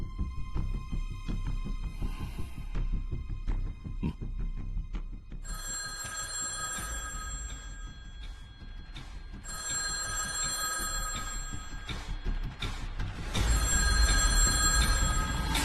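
A telephone rings in repeated bursts, its bright electronic trill loud and close, with short pauses between rings and a low background hum throughout.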